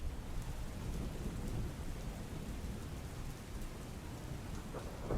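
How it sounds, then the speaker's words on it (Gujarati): Heavy monsoon rain in Uttarakhand during flooding, a dense, steady roar of downpour with a deep rumbling undertone, loud and continuous throughout with no voices. "ઉત્તરાખંડમાં ભારે વરસાદ જોવા મળી રહ્યો છે"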